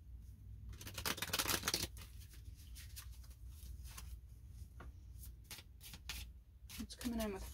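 A tarot or oracle deck is handled and shuffled, with a quiet, close flurry of card riffles and rustling, then sparser taps and a voice speaking near the end.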